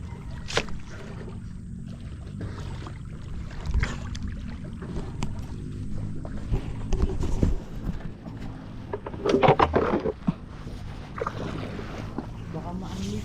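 Wooden bangka being pushed through water, with splashing, sloshing and hull knocks amid wind, while people talk and call out nearby.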